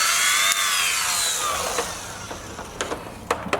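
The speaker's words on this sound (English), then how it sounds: "found a buffing pad for my Dremel" A Dremel fitted with a buffing pad whines steadily as it polishes bass boat gelcoat during a glitter spot repair, loud and close, its pitch slowly dropping while faint scuffing clicks cut through the drone.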